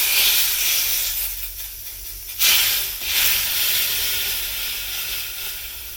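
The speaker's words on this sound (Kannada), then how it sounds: "ಇವಾಗ ಒಗ್ಗರಣೆನ ಸಾರಿಗೆ ಸೇರಿಸೋಣ." A hot tempering of mustard seeds and curry leaves is poured into horse gram rasam and lets out a loud, hissing, steamy burst that swells sharply midway and then slowly settles into a fading sizzle.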